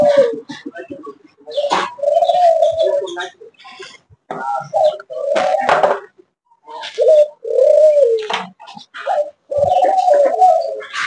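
Pigeons on a bird farm coo repeatedly and loudly up close, in long rolling calls separated by brief pauses, during cage cleaning with trays being handled.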